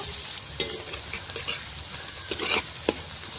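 Chopped onions fry in oil in a wide metal pan before goat meat goes in, a continuous close sizzle broken by a few scraping stirs, with no voices.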